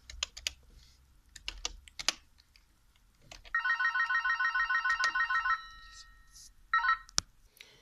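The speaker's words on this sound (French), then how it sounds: "Donc pardon pour le téléphone qui vient de sonner." Telephone ringing in a room with a sustained, loud electronic trill lasting about two seconds and then a brief second burst, with computer keyboard typing clicking before it.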